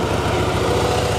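A 2013 Harley-Davidson FLS Softail Slim motorcycle engine runs steadily at idle, a loud, close, even low rumble with a regular pulsing throb that holds for about a second with no talk.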